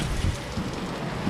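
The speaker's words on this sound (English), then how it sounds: "Raining sheets right now." Heavy rain pours steadily in a July downpour, a dense continuous wash of noise with low rumbling underneath, close and unbroken for the whole moment with no talk.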